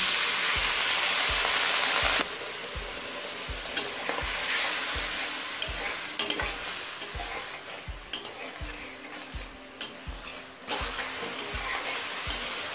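Fish masala with chilli, turmeric, cumin, salt and a splash of water sautéing in a pan over high flame, a loud steady sizzle punctuated by regular scraping stirs of a spoon against the pan.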